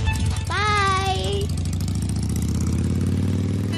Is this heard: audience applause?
no